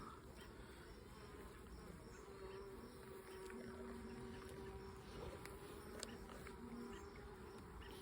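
Italian honeybees swarm over frames during a hive inspection, a faint continuous buzzing drone with wavering tones from individual bees passing near, no voices.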